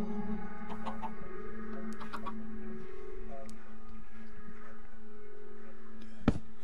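Minecraft chickens clucking in the video game, several soft, repeated clucks at close range over a steady hum, ending with a couple of sharp clicks.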